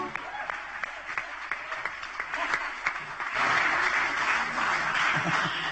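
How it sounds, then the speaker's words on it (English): An audience at a music awards show claps, scattered and sparse at first, then building into fuller, denser applause for the last few seconds. "How about another round of applause for Patricia"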